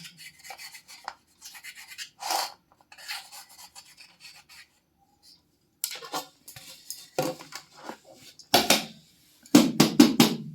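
A knife blade scraping and rasping around the sides of a cake pan in short repeated bursts, close up, with quiet pauses between strokes.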